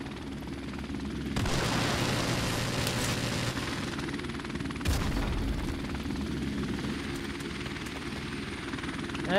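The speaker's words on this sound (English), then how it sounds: "Enemy helicopter inbound!" In Call of Duty: Modern Warfare Remastered, an enemy helicopter's rotor thrums steadily and loudly throughout, with a sharp burst of louder noise partway through and a brief clatter near the end.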